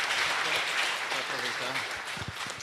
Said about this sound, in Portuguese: eu queria pedir uma salva de palmas para a professora Zezé